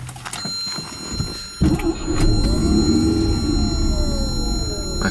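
A 1984 Mazda RX-7 Savanna GSL SE Series 3 coupe with the 13B rotary engine and 5-speed box rises in revs under light throttle, a steady close engine drone swelling after a brief dip, with no talking.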